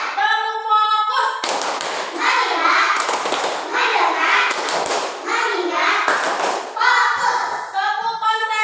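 Children in an elementary classroom clapping out the rhythmic tepuk fokus routine, sharp bursts of unison hand claps in a set pattern alternating with chanted voices, loud and close.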